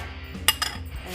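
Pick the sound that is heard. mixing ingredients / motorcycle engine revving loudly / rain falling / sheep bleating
mixing ingredients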